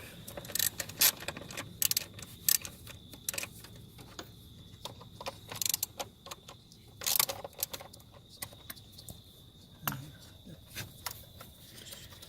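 Bolts removed from the emissions purge valve of a 2011 Ford F-150 with a hand tool, a run of quick metallic ticks and clicks with scattered rattles, close and intermittent, no voices.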